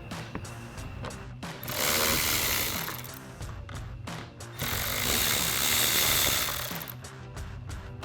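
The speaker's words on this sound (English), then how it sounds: "Now we can go ahead and remove the two 7mm screws located back in here, again with our 7mm socket on our ratchet." Ratchet with a 7mm socket backing screws out of a truck door panel, rapid clicking in two long runs with short pauses between, close and fairly loud, no speech.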